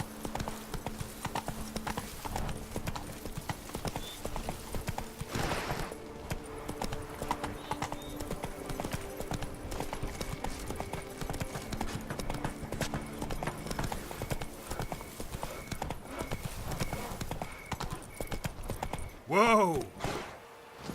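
Roach, Geralt's horse in The Witcher 3: Wild Hunt, gallops with a steady, rapid clip-clop of hooves, a whinny-like cry bursting out near the end, while voices speak over the hoofbeats.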